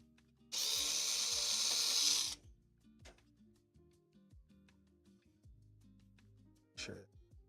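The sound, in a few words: screws being removed from Skywalker V1 roaster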